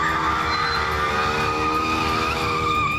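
A superbike races at high speed and its tyres skid into a crash, caught from a rider's helmet camera during street racing in a city. A loud, continuous engine and tyre roar with a steady squealing skid holds throughout, with no voices.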